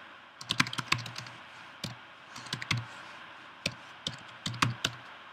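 Keystrokes on a computer keyboard as a configure command is typed, coming in short irregular bursts of close, crisp clicks with pauses between them.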